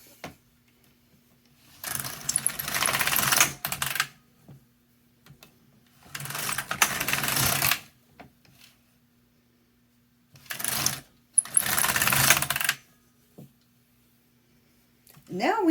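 A knitting machine carriage runs across rows of working yarn in three loud, close, rattling whirring passes of about two seconds each, separated by pauses with faint clicks and a low steady hum.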